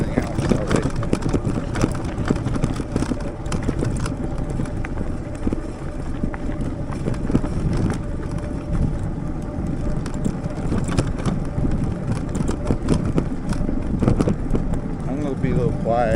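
An e-bike ridden outdoors on a trail in Michigan's Upper Peninsula, with steady rolling tire and drivetrain rumble and constant wind buffeting the microphone for the whole stretch, no talking.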